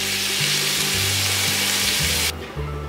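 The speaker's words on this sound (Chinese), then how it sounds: "翻炒至高丽菜稍微变软之后" Cabbage being stir-fried in a wok, a steady loud sizzle and hiss with the clatter of tossing, then the sizzle drops abruptly near the end as the pan quiets.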